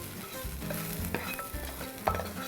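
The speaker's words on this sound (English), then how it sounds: "These leeks have really softened in the pan. They smell very fragrant. We're just gonna dump these out." Softened leeks tipped out of a frying pan, a soft steady sizzle with repeated scraping and shuffling of the vegetables against the pan and a sharp knock near the end.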